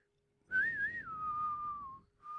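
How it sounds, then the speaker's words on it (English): One person whistles a clear, sustained tone with a small wavering rise at the start, then a long gently falling note and a brief second note, solo and fairly quiet. "I can't whistle when I smile."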